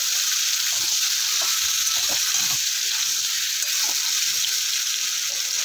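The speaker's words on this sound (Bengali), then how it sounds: "বেগুনটাকে তেলের মধ্যে সবজির সাথে একটু নেড়ে চেড়ে নেব" Eggplant is stirred and fried in oil with other vegetables, producing a dense, loud, steady hiss of sizzling close by, with soft low thumps from the stirring beneath it and no speech.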